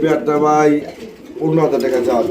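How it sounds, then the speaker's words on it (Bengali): Giant homer pigeons coo in soft, throaty repeated phrases, one long rolling coo followed after a brief pause by another, close by and clear. "এই পিয়াটা কিন্তু জায়েন্ট হোমা কবুতর"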